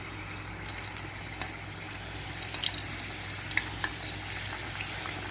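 Round-sliced potatoes frying in hot oil in a home kitchen, a steady soft sizzle with faint crackles and pops scattered through it.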